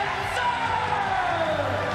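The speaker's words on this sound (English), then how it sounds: "People are standing up, they're cheering." Crowd noise at a Pride Fighting Championships mixed martial arts event in Japan, with spectators on their feet cheering in a steady, loud roar that fills the whole arena and never breaks.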